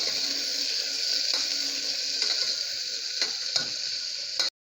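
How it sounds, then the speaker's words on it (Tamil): Tempering spices fry and crackle in hot oil in a pan for salna, a steady close sizzle with scattered light pops, ending abruptly. "தாளிக்கிற அந்த ஸ்பைசஸ் எல்லாம் போட்டு பொரியட்டும்"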